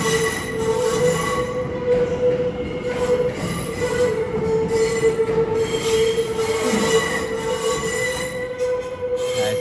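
A London Overground electric train at a London terminus gives a loud, sustained high-pitched wheel squeal over a rumbling rail background. It is close and continuous for the whole stretch, with no voices.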